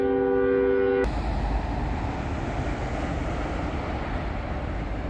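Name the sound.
long train passing with horn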